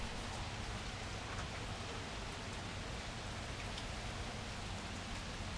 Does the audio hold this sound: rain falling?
yes